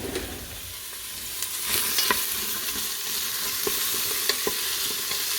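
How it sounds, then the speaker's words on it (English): Steady, crackling sizzle of onions frying in an Instant Pot, with occasional sharp pops and spits, close and continuous with no talking. "you guys can just hear it sizzling."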